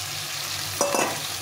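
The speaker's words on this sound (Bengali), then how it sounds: "এখন আমি এই ভেজে রাখা আলুগুলো দিয়ে দেবো" Fried potatoes tumble into sizzling spice paste and are stirred in a pan for a fish-head curry, giving a short burst of scraping and frying near the end, over a steady low sizzle.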